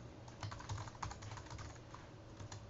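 A password is typed on a computer keyboard as a steady, soft run of quick key clicks, close and fairly quiet, with no voices.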